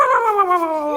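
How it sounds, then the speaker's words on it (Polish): A small dog whimpers in one drawn-out, high, wavering whine lasting about a second, close and clear, with no voices. "Ten piesek gryzie."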